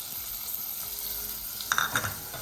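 Pieces of a large tomato fry in a pan for a Nellore-style recipe, a steady close sizzle with a few clinks of stirring near the end, no voices over it.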